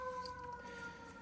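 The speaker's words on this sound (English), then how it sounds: "I constantly hear fire trucks and ambulances pass by here every day." Faint siren from a passing fire truck or ambulance near a fire station, heard as a distant wavering tone over low traffic rumble in a repair garage.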